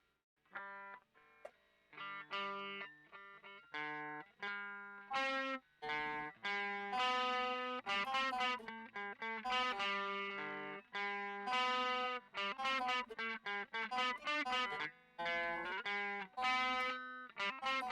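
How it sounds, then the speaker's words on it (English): A guitar played through a distortion pedal into an amp, with a run of bright, buzzy, saturated notes and chords in a choppy rhythm, loud and up close, with no talking. "I'm pretty sure it's the distortion pedal, or like the way the amp outputs or something"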